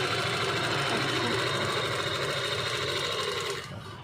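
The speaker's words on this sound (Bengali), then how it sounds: "এবার রানিং করবো, সেলাই হতে থাকবে।" A sewing machine runs steadily while stitching fabric, a close, loud, continuous mechanical whir with a rapid rhythmic chatter that starts to wind down just before the end.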